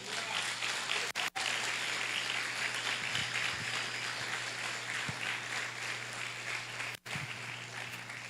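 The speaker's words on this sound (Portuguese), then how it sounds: "Você pode dar uma salva de palmas para Jesus?" Church congregation at an evangelical service applauds, a sustained wash of many hands clapping over a low steady hum, briefly cut by short dropouts.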